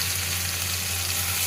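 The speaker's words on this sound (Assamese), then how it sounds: "ধুনীয়াকৈ অকণমান মই ভাজি ল'লোঁ ঢাকি" Spices fry in a covered pan, giving off a steady, close sizzle with a low hum beneath, even and unbroken from start to finish.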